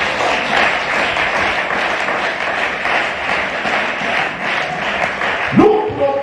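A congregation at a church service applauds in a steady, dense wash of clapping that carries on throughout, with faint voices mixed in and a brief louder swell near the end.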